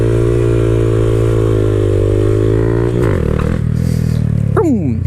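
A Honda Grom motorcycle engine holds a steady high rev during a wheelie, then drops and climbs again in pitch with quick throttle blips near the end, loud and close throughout.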